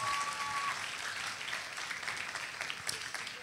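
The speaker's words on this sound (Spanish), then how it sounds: "Un aplauso para ella, por favor." Audience applause at a university leadership forum, steady dense clapping from a large crowd filling the room, loud and continuous without speech.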